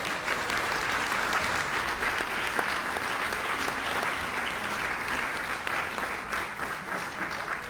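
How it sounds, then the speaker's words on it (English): Audience at a conservation easement announcement applauding the board, a sustained, full round of clapping that holds steady and fairly loud throughout. "So how about a round of applause for this board?"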